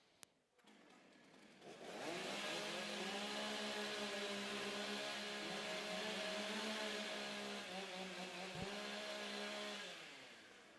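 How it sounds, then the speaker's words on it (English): Several chainsaws rev together as they warm up at a professional timbersports competition. After a brief pull-start, the engines settle into a sustained, loud, buzzing roar that swells and wavers for about ten seconds with no talk. "Okay, gentlemen, warm up your saws."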